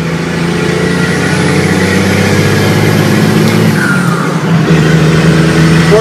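A Cummins diesel truck with huge tires and a six-speed transmission pulls hard through the gears, its engine a loud, continuous droning roar with a brief dip and shift just after the midpoint, no talking.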